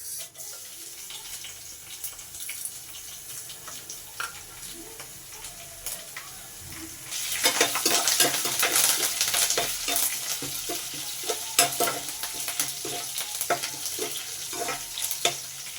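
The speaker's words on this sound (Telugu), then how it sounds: "హీట్ ఎక్కిన తర్వాత వీటిని ఈ ఆయిల్లో వేసి ఫ్రై చేసుకుందాం" Garlic, curry leaves, dried chillies and tempering spices hit hot oil for a Telangana-style drumstick dal, the quiet background jumping to a loud, dense crackling sizzle about halfway through that keeps popping and spitting close by, with no talk.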